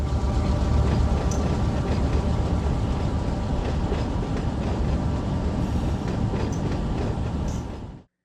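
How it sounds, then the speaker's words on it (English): A freight train in the Run 8 Train Simulator game rolls into Barstow Yard with a steady, loud rumble and rail clatter and faint squeals, running unbroken before cutting off abruptly at the end. "So here's our train coming into Barstow Yard right now."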